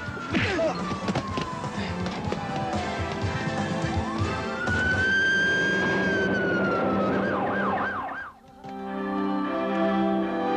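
A police car siren wails loudly in a rising and falling sweep amid thuds and crashing noises, then warbles rapidly before cutting off briefly and resuming.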